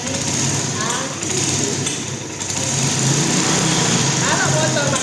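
A Yamaha Mio scooter engine idles and revs close by during an ignition check, a loud continuous buzzing drone with slight rises in pitch and load throughout.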